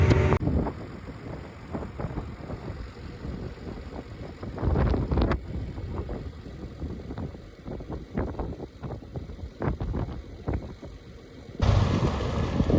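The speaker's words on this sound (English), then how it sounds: "Pretty dusty, pretty windy." Gusty wind buffets the microphone in uneven rumbling bursts on a dusty farm field during cover crop planting, with a steady tractor engine hum underneath throughout.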